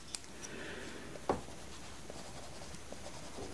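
A budget colored pencil shades a bird drawing on rough, textured paper, making a faint, steady scratchy rasp with one light tap, close up and quiet.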